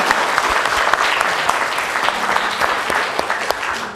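An Indonesian television studio audience claps steadily and warmly for a few seconds, a dense, even wash of applause with no voices over it.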